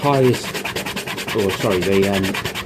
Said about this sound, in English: I tend to start off with a bit of hand sanding, you know, basic sanding